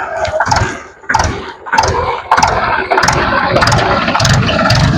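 A tractor engine with a fault running close and loud, its uneven chugging rising and falling in rough pulses about once a second, with no talk.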